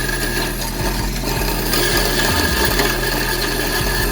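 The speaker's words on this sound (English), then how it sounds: "So I'll turn the bandsaw on, and now I can just kind of take my time and just push this right through" A running bandsaw cuts through a stainless steel bolt, a close, loud, continuous motor hum with a rasping cutting tone and slight rhythmic fluctuations.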